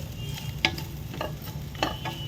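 Fried potato pieces are tossed into a pan of hot tempering, giving a soft continuous sizzle with a couple of sharper scraping stirs of a spoon, fairly quiet and close.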